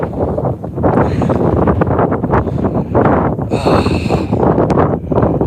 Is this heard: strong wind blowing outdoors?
yes